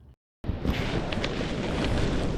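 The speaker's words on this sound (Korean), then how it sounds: "끝청으로 가는 길 내내 정말 바람이 너무 많이 불었고" Strong wind buffets the microphone on a snowy Seoraksan mountain trail toward Kkeutcheong in October, a loud, continuous broadband roar following a brief dropout at the start.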